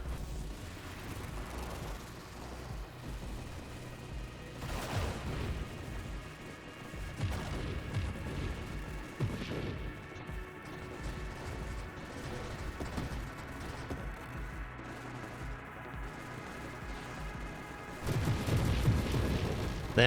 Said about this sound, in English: That was a very fun explosion.